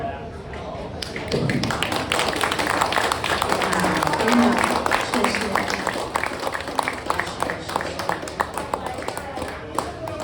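An audience at a poetry reading applauds steadily for several seconds, a dense wash of many hands clapping with a few louder nearby claps poking through as it thins toward the end.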